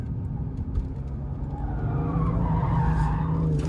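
BMW M2 CS tires squealing as the car drifts out of a corner on track, a continuous loud skid over a deep engine roar, growing steadily through the whole stretch.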